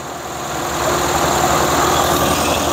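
A 1925 Maxwell car engine runs close by after a fuel system rebuild, a steady low idling rumble with a throbbing pulse that swells in loudness during the first second and then holds even.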